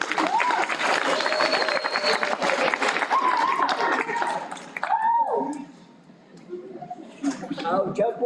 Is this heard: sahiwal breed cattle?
no